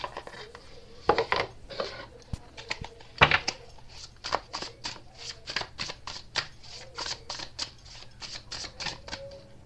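Tarot cards are shuffled by hand close to the microphone, producing a rapid run of crisp papery riffles and flicks in uneven bursts, with no talking.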